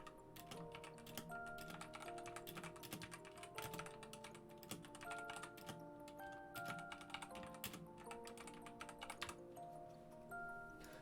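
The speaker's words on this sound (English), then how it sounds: "You get to hear the clicky clack of my keyboard." Rapid, steady clicking of a computer keyboard being typed on continuously, close and fairly quiet, with a faint musical tone layer underneath and no talking.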